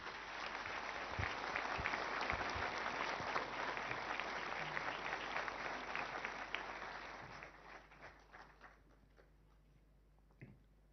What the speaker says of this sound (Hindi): जोरदार तालियों के साथ स्वागत कीजिए माननीय प्रधानमंत्री श्री नरेंद्र